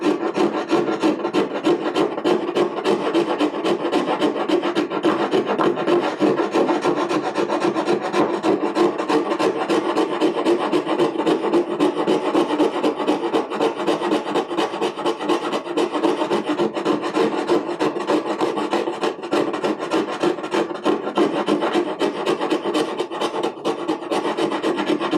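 Small file rasping wood while bevelling a lower edge: fast, even back-and-forth strokes, close and loud, repeating steadily throughout with no talking.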